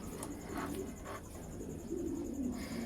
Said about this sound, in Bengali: দেখেন ভাই কবুতর দৌড়াদৌড়ি করে নিচ্ছে, কবুতর ছোটাছুটি করে নিচ্ছে